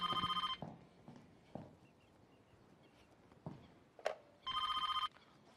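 Telephone rings in a domestic scene, two bursts of rapid electronic bell trills at the start and end, separated by quieter room sounds and a few knocks, no talking.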